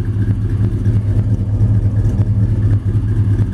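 Restored 1955 Chevy Bel Air two-door post with a ZZ4 engine running at a steady idle, a loud, even low-pitched burble with slight periodic ticks, heard up close and alone.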